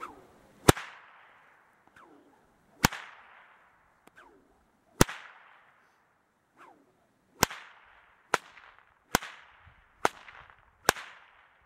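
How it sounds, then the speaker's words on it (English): Loud, sharp cracks from a prototype cattleman's stockwhip, nine of them spaced irregularly a second or two apart, each ringing briefly before fading, with quiet pauses between and no talking. "And it does crack pretty loud."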